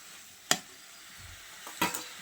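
Spinach with potato and shrimp simmers in a pan under a low sizzle, with two sharp spoon scrapes of stirring against the metal, close and quiet, no talk.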